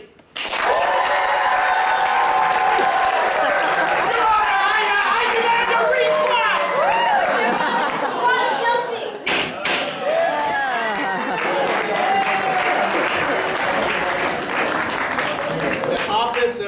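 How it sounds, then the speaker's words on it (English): A theatre audience at an improvised comedy show claps as loud as it can, a dense, sustained burst of applause mixed with cheering voices that holds strong for the whole stretch. "I need you to clap on the count of 3 as loud as you can."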